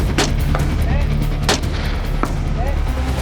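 Sharp rifle gunshots ring out at an outdoor shooting range, three distinct loud reports spaced roughly a second apart, each with a quick echoing decay over steady background noise.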